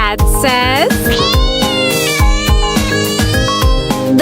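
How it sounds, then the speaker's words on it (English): Cat meowing in a loud, rising call near the start, set against a bouncy children's nursery-song backing track with no talking. "The cat says."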